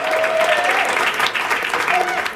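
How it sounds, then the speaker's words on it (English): Steady audience applause for a lead alto in a youth jazz band performing at a distillery, dense clapping throughout with a few shouts riding on top. "Miriam Goroff-Beal, lead alto, round of applause."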